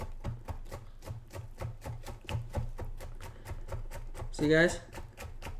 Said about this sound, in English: So what I'm going to do is cut these small.